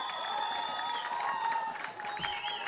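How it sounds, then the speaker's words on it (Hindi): A crowd at a national games rugby match between Haryana and West Bengal applauds and cheers in a steady, moderately distant roar, with whistling tones over the crowd noise. "तालियों की गड़गड़ाहट के बीच स्वागत।"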